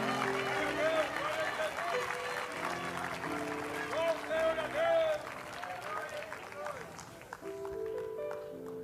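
A church congregation claps loudly and continuously in praise, a thick crowd patter running under singing and animated voices throughout.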